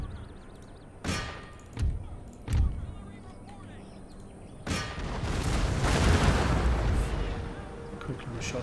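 Cannon artillery fires in a siege battle in Empire Total War: three sharp booms come close together, then a heavier blast rolls into a long rumbling barrage that lasts several seconds.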